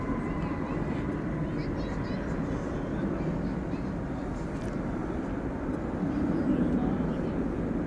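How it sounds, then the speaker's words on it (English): Boeing 787-8 Dreamliner jet airliner passing over a bridge at DFW Airport at night, bound for Santiago de Chile, a continuous distant engine rumble that swells slightly toward the end, with no voices on top. "787-8 Dreamliner headed over the bridge."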